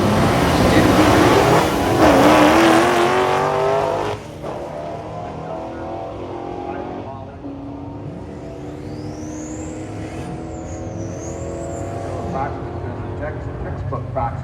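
A Fox body Mustang drag races down the far lane of the strip, its engine roaring loud at launch and then fading into a steady distant drone, with a commentator talking over it.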